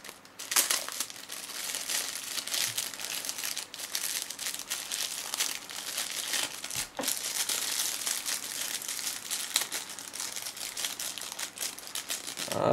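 Plastic bag crinkling and rustling close up as a VR headset accessory is unpacked, with continuous handling noise, a few sharper crackles and a tearing bit as something stuck to the bag is pulled free.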